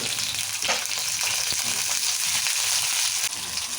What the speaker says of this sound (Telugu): ఇలా కొంచెం జీలకర్ర వేసుకుందాము నూనెలా ఇక పచ్చిమిరపకాయలు వేసుకుందాం